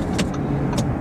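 An Audi e-tron electric car drives along with a steady road and cabin rumble, and two brief bright ticks rise above the hum.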